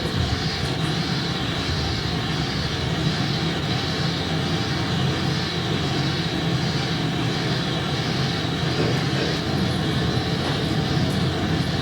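Wind turbine noise recorded outdoors, a continuous broadband whooshing roar with a faint rhythmic swell, steady and fairly loud throughout with no talking.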